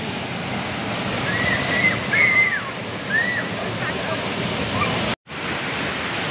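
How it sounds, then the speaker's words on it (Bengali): Mudulipada waterfall at Daringbadi running in the rain, a steady broad rush of falling water with a voice speaking over it and a brief dropout near the end. "তো এই হচ্ছে মৃদুবন্ধা ওয়াটারফল"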